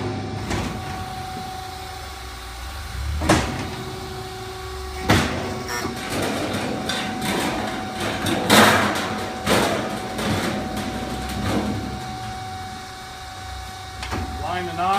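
A PROFAB wrap brake machine bends TDC sheet metal duct, making mechanical thumps and clanks at irregular intervals over a steady motor hum, with some speech partly mixed in.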